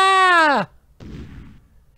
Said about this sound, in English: The explosion disables the force field generator.